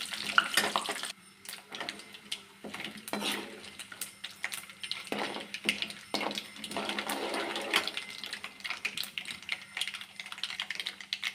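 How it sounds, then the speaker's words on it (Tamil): Mustard seeds and chana dal frying in a pan for coriander rice, a crackling sizzle with dense irregular popping and tapping from the seeds, plus occasional utensil stirring, fairly close. "கடுகு போட்டுக்கணும் பொன்னிறமாக கடலப்பருப்பு வதங்க"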